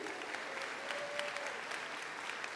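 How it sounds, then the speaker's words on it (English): A graduating class gives itself a round of applause, a steady, even wash of many hands clapping at moderate distance. "my fellow classmates, give yourself a round of applause"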